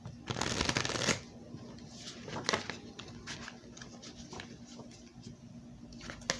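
Tarot cards being shuffled in a quick, dense riffling burst near the start, followed by softer intermittent card slides and taps that continue through the rest.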